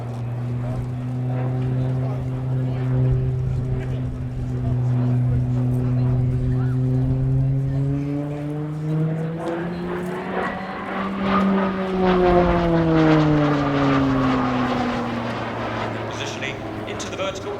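A Slovenian Armed Forces Pilatus PC-9M Hudournik turboprop flies a loop with a roll at the apex during an airshow display, its droning propeller tone holding steady and then bending upward and down again, with a commentator talking over it.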